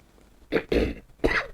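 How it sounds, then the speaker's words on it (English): Three quick, harsh coughs close up, the last two spaced a little apart, with near silence before them. "I think I have a cough tonight"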